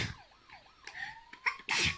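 A single sharp sneeze bursts out near the end, preceded by a rising and falling siren-like electronic whine in a children's learning show.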